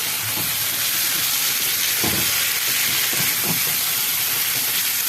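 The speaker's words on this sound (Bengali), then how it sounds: "এবার আমি সামান্য জল দিচ্ছি একটু ভালো করে সিদ্ধ হওয়ার জন্য" Water poured into a pan of whole garlic chicken sets off a steady, loud sizzling hiss that runs unbroken from start to finish, with a few brief bubbling bursts.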